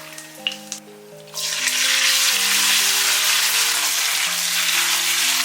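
Beef dropped into hot oil with chili in a wok, first a couple of light clinks, then a sudden loud, steady sizzle that holds strong while soft background music plays underneath.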